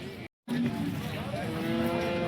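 Jersey cows at the Sangola cattle market in Maharashtra, with a steady low lowing sound close by after a brief silent gap, amid busy market background noise.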